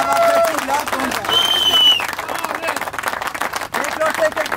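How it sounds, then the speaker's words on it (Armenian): An audience applauds at a 2025 Class B autodrive motorsport event in Vardashen, with dense, sustained clapping and crowd babble running throughout, plus a few whistles rising above it. "Եկեք մի հատ նախ առաջինը մենք մեզ ինքներս մեզ ծափահարենք"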